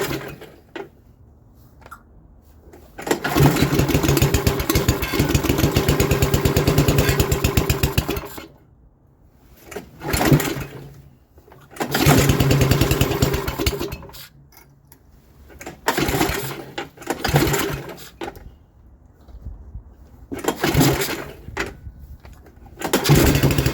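Craftsman 8/28 snowblower engine starting up: pull-cord attempts, then the small engine catches and runs loudly in several long stretches, cutting out and restarting between runs, close by.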